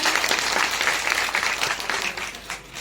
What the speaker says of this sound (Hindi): तो व्यास जी के एक बार जोरदार तालियों से स्वागत करेंगे।